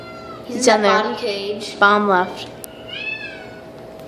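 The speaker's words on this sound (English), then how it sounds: "So if you hear that noise, that meowing, is a little tiny kitten." A tiny black kitten meows in a bottom cage at a county humane society shelter, its thin, high cries rising between nearby voices talking over it, with a final faint mew trailing off.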